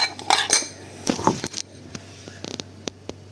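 A utensil clinks and scrapes against a bowl while ingredients are stirred, a few quick taps early, then lighter scattered ticks, close by and with no talking.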